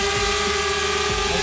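A DJI Spark drone's propellers whine steadily in a loud, continuous buzz with a high tonal hum, holding close throughout as the small quadcopter flies off.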